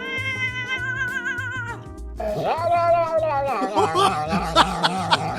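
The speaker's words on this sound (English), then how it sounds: "Check out these hilarious sounds that cats make." Cats meowing in a string of long, wavering, sing-song meows and yowls, loud and close, with a low rhythmic music bed underneath and no talk.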